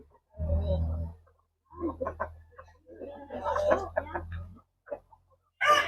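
Chickens cluck and murmur in bursts on a farm in the afternoon, close by, with gaps of near silence between calls and a sharper squawk at the end.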